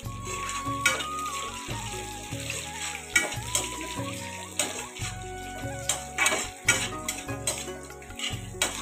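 Fenugreek seeds and cumin fry in ghee with a soft sizzle, punctuated by clinks of a spoon against the pan and a low steady hum beneath.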